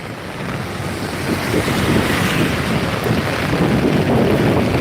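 Floodwater rushes along a swollen river during heavy rain, a loud dense roar of churning water mixed with buffeting wind on the microphone, steady and unbroken throughout.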